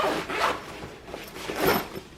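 A two-way zipper on a Sunpak ring light carrying case is pulled open in several long rasping strokes, close and loud, with no talk over it.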